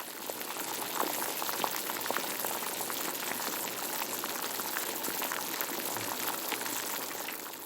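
A pot of water boils steadily with cauliflower pieces added, turmeric and salt going in; a continuous, close bubbling and rolling hiss runs evenly throughout with no talking.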